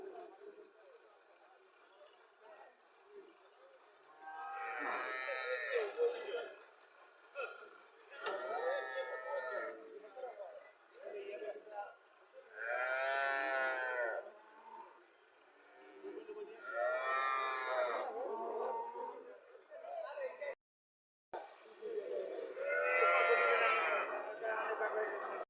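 A dairy cow and her heifer calf on a farm let out several drawn-out moos at intervals, fairly close, with quieter gaps between calls.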